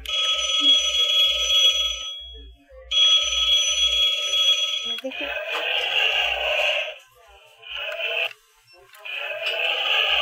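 A toy plays bright electronic ringing tones with a pulsing beat, then switches to buzzy synthesized noises and effects, loud and close.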